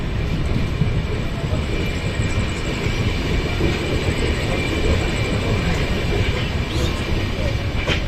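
The Jharkhand Swarna Jayanti Express pulls out of Garhwa Road Junction, a steady loud rumble of rolling coaches with faint wheel clatter that holds for the whole stretch.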